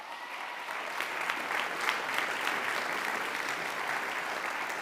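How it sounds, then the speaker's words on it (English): Audience applause at the 2024 LEAFYs, a Goshen College athletics awards night, steady sustained clapping from a crowd filling the room, moderately loud and even for several seconds with no voices over it. "Please give them a round of applause."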